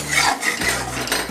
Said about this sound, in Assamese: চেনিখিনি দিয়াৰ পিছত আমি মিলাই দিম ধুনীয়াকৈ মছলাখিনি